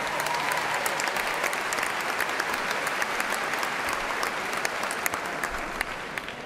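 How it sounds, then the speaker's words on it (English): A large audience at a university commencement ceremony applauds steadily and evenly throughout, a dense wash of clapping with no pauses. "How about another round of applause to Cheyenne?"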